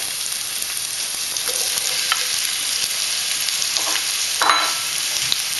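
Onions and carrots for a stir fry fry in a pan with a loud, continuous close sizzle and occasional stirring scrapes.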